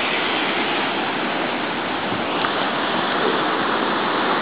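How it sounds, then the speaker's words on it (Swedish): Water rushes into the rocky riverbed of the Aratiatia Rapids in New Zealand, a loud, steady, broadband roar like a waterfall with no pauses and no voices. "Och här ser vi nu hur vattnet kommer och fyller upp."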